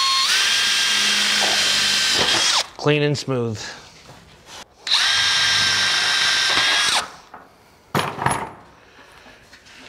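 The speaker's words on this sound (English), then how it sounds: "now that I marked my holes, I'm gonna pre-drill them" A power drill pre-drills holes in standing seam metal roofing flashing, whining steadily for a couple of seconds, stopping, then running again in a second long burst; brief clatter and a few spoken words fall between the runs.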